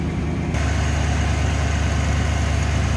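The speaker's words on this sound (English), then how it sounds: "As it warms up, it's going to idle down a little bit." A 1988 Chevrolet Camaro convertible idles while warming up, a steady low rumbling engine note that jumps louder after a brief quieter start, then holds an even, continuous idle.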